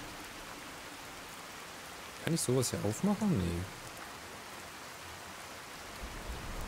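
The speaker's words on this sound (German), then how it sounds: "Der Regen regnet einfach auf mich runter." Rain falling in the video game Fallout 4, a steady soft hiss of rainfall throughout, with someone briefly speaking over it in the middle.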